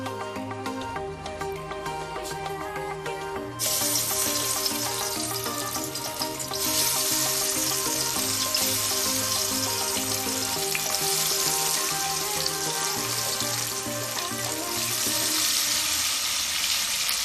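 Chicken 65 pieces go into hot oil, and a loud, dense frying hiss jumps up abruptly a few seconds in, then holds steady and close, overlaid with low clattering tones; no voices.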